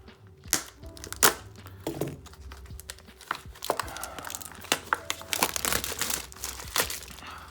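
Plastic packaging on a Chaotic trading card game M'arrillian Invasion first-edition deck is cut open with scissors, giving close, quiet crinkling and rustling with a few sharp snaps and cracks.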